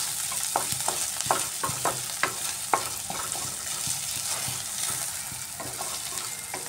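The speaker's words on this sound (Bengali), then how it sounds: "পেঁয়াজ আদা রসুনটা ভালোভাবে ফ্রাই হয়ে গেছে।" Onion, ginger and garlic frying in a pan, a close, steady sizzle punctuated by repeated sharp scraping and tapping strokes from stirring, with no voices.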